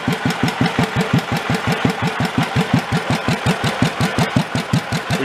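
An old car engine left sitting under a tree for 40 years idles very slowly and evenly, its loud putting beats repeating about four or five times a second, close up with no voices.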